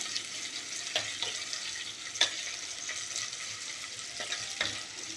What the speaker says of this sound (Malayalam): ഇത് നന്നായി ഒന്ന് വഴറ്റി വരണം.